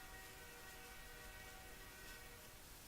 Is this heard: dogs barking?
no